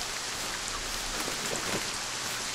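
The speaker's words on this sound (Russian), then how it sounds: "Да, дожди, конечно, прикольно выглядят" Rain pours steadily in the video game Sniper Ghost Warrior 3, a dense, even hiss of drops on surfaces that stays constant and fairly close, with no voices.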